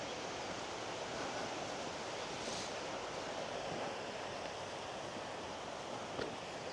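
Steady rushing of water pouring over Neillbrook Weir on a river near Randalstown, County Antrim, a continuous broadband roar with no pauses, fairly close and unbroken throughout.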